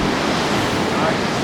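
Ocean surf washes at Newey Beach, a dense, constant roar of breaking waves mixed with wind buffeting the microphone, loud and close throughout.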